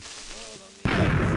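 Sudden booming blast of a creeper exploding in Minecraft, a sharp loud burst cutting in after a shouting voice.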